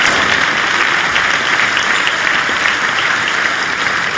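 A crowd at a squash final applauds a drop shot, loud sustained clapping from many hands filling the whole stretch without letup.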